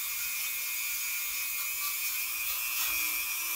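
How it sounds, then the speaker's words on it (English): A Dremel rotary tool spinning a nylon brush to clean a Husqvarna chainsaw cover, giving a steady high-pitched whine with a constant drone and light scrubbing, close and continuous with no talking. "this nylon brush right here on the Dremel works great"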